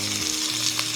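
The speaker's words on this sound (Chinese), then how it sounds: "来，我们要倒入料酒啊" Cooking wine goes into a hot pan where a fish head is frying over high heat, producing a close, dense, steady sizzle.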